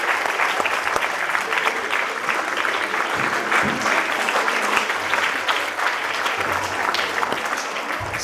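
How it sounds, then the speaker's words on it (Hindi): Sustained applause fills a school award ceremony hall as a top-ranked student is called to the stage, a dense even clatter of many hands throughout, without talk over it. "फिर से एक बार तालियां शांति के लिए"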